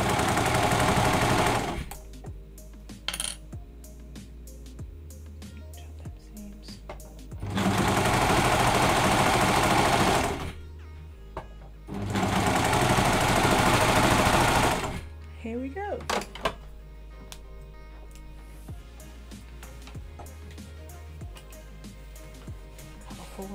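A Brother 1034D serger stitches fabric in several loud, steady bursts of rapid mechanical whirring, separated by quieter pauses filled with small handling clicks and rustles.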